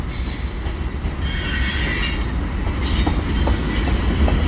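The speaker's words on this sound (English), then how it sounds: "this is a train that came out of the yard there near" A CN freight train pulled by five engines rolls westbound around the Atwater curve, wheels squealing loudly and continuously against the rails as the cars pass close by.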